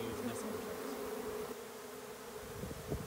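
Swarm of honeybees buzzing around a hive entrance, a steady, dense droning hum that stays close and continuous throughout, with no voices.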